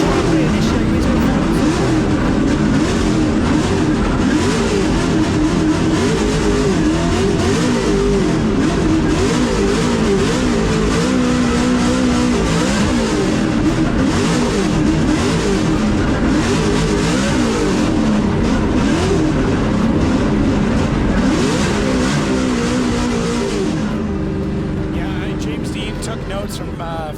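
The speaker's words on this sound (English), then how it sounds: "Deane to lead out Rintanen, the higher qualifier decides to lead first as he flicks that Mustang RTR across the circuit" A Ford Mustang RTR drift car screams continuously across a Drift Masters circuit in Finland, its engine loud and sustained with wavering revs, overlaid by steady commentary throughout.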